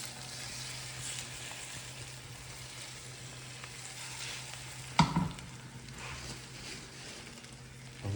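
Beaten egg batter frying in hot oil in a pan, a steady low sizzle throughout with one brief louder clatter midway, no talking.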